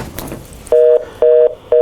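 Pressing a button on a hotline desk phone sets off three loud, evenly spaced electronic tone beeps, each about a quarter second long, over a faint room background.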